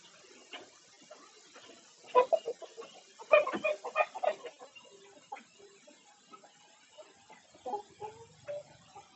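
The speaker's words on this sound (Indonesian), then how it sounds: "Dan ini adalah ayam, ayam-ayam yang unik gitu." Chickens clucking in short, irregular bursts, fairly close, with a few louder squawks in the middle and quieter clucks toward the end.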